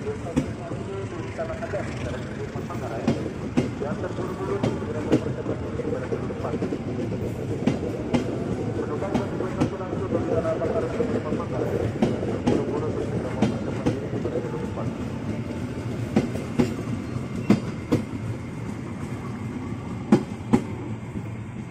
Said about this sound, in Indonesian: setelah berangkat dari jalur 4 kereta api Mataram mengarah ke Jakarta Kota